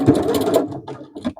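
A domestic sewing machine stitches a short back stitch along a bag seam, a dense mechanical whir for about half a second, then a few softer, sparse clicks and taps close by.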